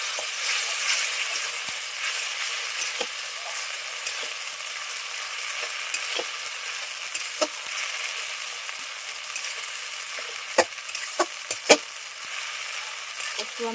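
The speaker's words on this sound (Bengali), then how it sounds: "এবার একটু নাড়াচাড়া করে নেব।" Ginger-garlic paste frying in a pan while being stirred, a steady close hiss of sizzling oil with occasional soft scrapes and taps of the spoon against the pan, no talking.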